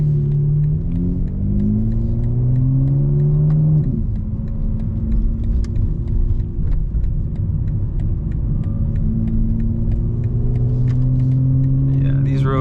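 A modified 2025 BMW M4 Competition xDrive drives onto a highway, its engine rumbling loudly and steadily as revs rise and fall through the gears, with road and tyre noise underneath throughout.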